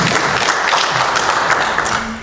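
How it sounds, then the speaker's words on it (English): Loud, dense applause from an audience at a Black male unemployment forum, a steady wash of many hands clapping that tapers slightly toward the end. "Let's give a round of applause for Ms."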